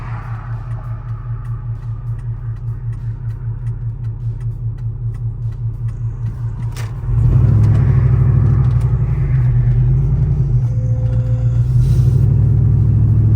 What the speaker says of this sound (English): Y'all hear that intake?